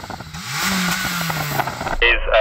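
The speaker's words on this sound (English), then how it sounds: "can you rev up your engine, please?" A Honda Civic Type R EP3 engine revs during a drag-race sound check, a loud close mechanical roar that climbs and holds before shifting abruptly near the end, with voices heard partly over it.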